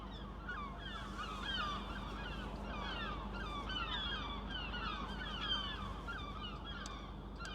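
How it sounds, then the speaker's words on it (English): Seagulls over Blackpool calling and squawking again and again in a busy, overlapping chorus, heard faintly from a distance over a steady low engine drone. "I don't know if you can hear those seagulls, they're kicking off, the seagulls"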